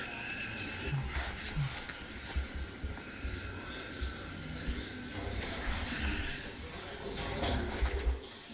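Pigeon cooing in a film scene, soft repeated coos over a steady low ambient rumble with faint background activity throughout.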